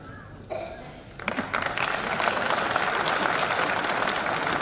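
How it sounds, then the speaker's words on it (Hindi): Applause from an audience at a speech by RSS Sarsanghchalak Mohan Bhagwat, starting with a few scattered claps and swelling into steady, dense clapping that fills the hall. "ये तालियां बजाने को क्या हो गया?"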